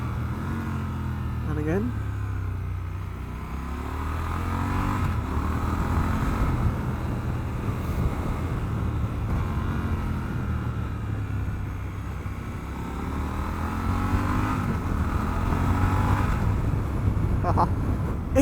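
Triumph Scrambler 1200 XE motorcycle engine with slipper clutch, rising and falling through gear changes on the road amid wind rush, with a rider talking over it.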